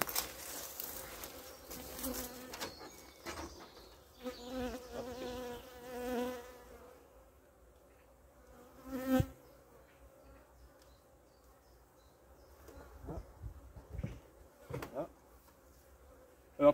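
Honeybees buzz around an opened beehive, a soft, fluctuating hum with individual bees droning past close by in passing swells, alone with no talk.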